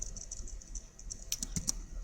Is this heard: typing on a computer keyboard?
yes